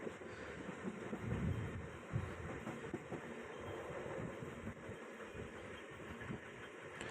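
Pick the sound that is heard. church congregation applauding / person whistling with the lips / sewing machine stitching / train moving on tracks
train moving on tracks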